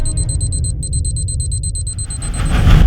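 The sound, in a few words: time bomb ticking sound effect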